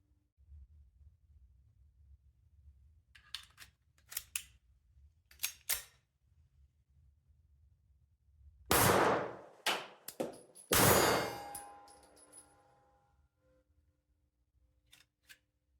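A French 1935A pistol fires a few sharp, loud shots with clanking metallic handling and pauses between them as it malfunctions, preceded by quieter clicks and slide noises, with no talk.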